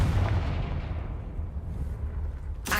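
Confringo fire spell blast in the video game Hogwarts Legacy: a loud, deep booming burst that rumbles and slowly fades, followed by a brief sharp hit at the end.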